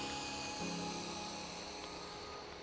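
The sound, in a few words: RC helicopter rotor while landing on low battery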